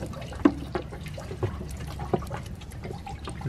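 Water sprays up from underneath onto a man-overboard device on a boat, giving scattered splashes and trickles with a few sharper spatters, moderately close.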